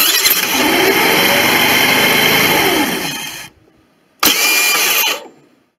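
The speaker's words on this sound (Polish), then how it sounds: "macie takie oto dźwięki podczas odpalania silnika, bądź silnik nie łapie za każdym razem" A four-stroke 139QMB scooter engine cranks on its electric starter for about three and a half seconds without catching, falls silent, then cranks again briefly, loud and close.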